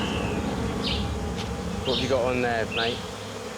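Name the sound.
bees buzzing near a tree trunk nest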